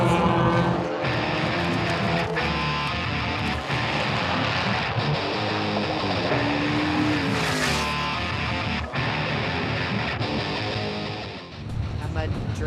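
Yellow-painted modified oval race cars of the Hornet class roar around a raceway track, engines droning loud and continuous with passing swells, while a person talks over the racing.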